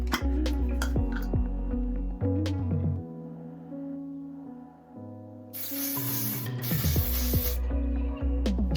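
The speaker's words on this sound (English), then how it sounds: "I'm going to be using Ghd Perfect Ending hairspray, and I'm going to spray it onto my detangling comb." ghd Perfect Ending hairspray hisses in two short close bursts onto a detangling comb, set against a steady background of music.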